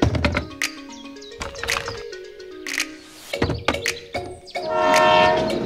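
Cartoon train for a Christmas gift delivery, heard as a run of clunks and thunks, a short horn-like tone and a rising rolling rumble toward the end, all fairly close and without speech.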